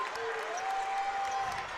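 A basketball crowd at a women's college championship final, Niagara against Fairfield, fills the arena with steady, dense cheering and applause that holds for the whole stretch, with a faint whistle-like tone riding over the roar.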